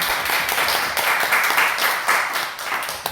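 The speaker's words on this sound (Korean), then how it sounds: "국장님께 박수 한번 드리도록 하겠습니다" Applause from a church congregation for a YWCA director after her talk, moderately loud and steady, many hands clapping together for a few seconds before tapering off.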